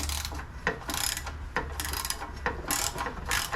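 A ratchet loosens the last transmission bolt on a 2001 Dodge Ram 1500, giving close, steady bursts of rapid clicking in repeated strokes with no talk over it.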